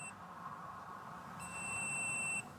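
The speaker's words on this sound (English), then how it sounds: "just hold the trigger down, wait for 2 beeps" A brief electronic beep, then a longer steady high-pitched beep from Rokrou electric pruning shears locking, both clear over a low background hum.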